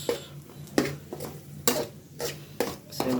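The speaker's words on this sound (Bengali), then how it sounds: "এখানে পেঁয়াজ, ডিম, কাঁচামরিচ দেওয়া হয়েছে, রান্না করা হবে লুডুস" Onion, egg and green chili stirred and fried in a pan for noodles, with repeated utensil scrapes and clacks against the pan at an uneven rhythm over a faint sizzle.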